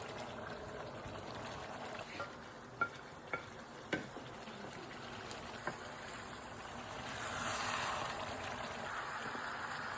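Okra soup ingredients stirred in a pot with a spoon, a series of soft scraping clacks against the pot wall over a steady low hiss, then a broader sizzling swell near the end.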